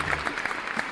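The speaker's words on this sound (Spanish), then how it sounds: "Fuerte el aplauso." A studio audience claps steadily in a short burst of dense, even applause, moderately loud.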